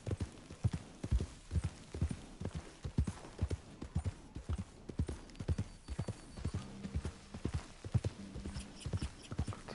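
A white horse's hooves clip-clop steadily over ground in Red Dead Redemption 2, a close, even trotting rhythm that runs throughout.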